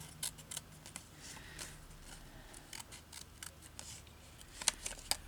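Scissors snip through paper while bits are trimmed for a woodland-themed journal, heard as a quiet scatter of short, crisp cuts spread irregularly across the clip with no talking.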